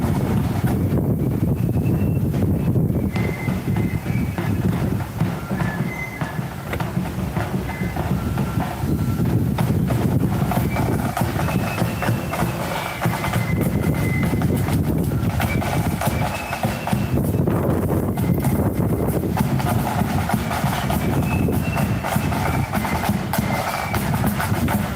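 Strong wind roars steadily across an outdoor band parade in Magherafelt, a dense, constant rushing that buffets the microphone, with faint distant tones drifting underneath.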